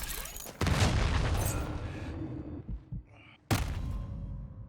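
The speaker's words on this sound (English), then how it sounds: "I wanted only to listen to the soothing winds and distant gunfire" Wind gusts and distant gunfire in the Call of Duty DMZ video game, a broad rushing roar broken by a few dull booming thuds, then a sharp loud burst of noise near the end.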